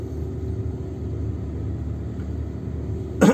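A manual-transmission car's engine rumbles steadily from inside the cabin during a driving lesson, a low continuous drone that swells slightly near the end as the driver gives it gas.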